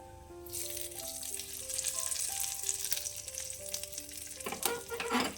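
Hot tempering with Kashmiri chilli powder is poured into a tomato chutney and sizzles and crackles loudly and steadily, with stirring and a faint tune playing underneath.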